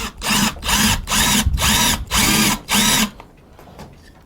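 A power drill fitted with a countersink bit cuts a hole in a router base plate, running in six steady bursts of about half a second each with short pauses between them, close and loud, then it goes quiet.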